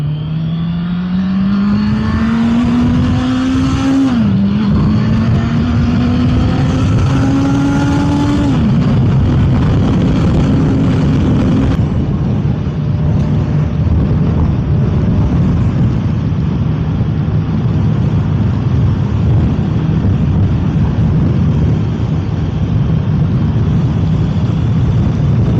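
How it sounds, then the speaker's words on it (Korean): A Honda CBR motorcycle engine and exhaust climb in pitch through two gear shifts, then settle into a steady roar with heavy wind noise while riding. "똑같이 배기 쪽에 소리를 한번 녹음을 하고 엔진 쪽에서 또 소리를 녹음을 해서"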